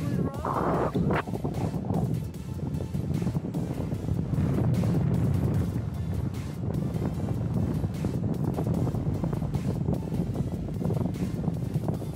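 Steady wind buffets the microphone at a paragliding launch site in Valle de Bravo, Mexico, a loud continuous roar throughout with faint voices underneath.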